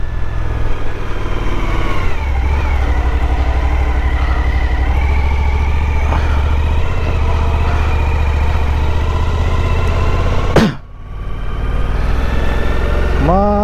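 A Suzuki V-Strom 1050 adventure motorcycle idles nearby with a steady engine drone, a few light revs rising partway through, then a brief sharp dip before the engine carries on.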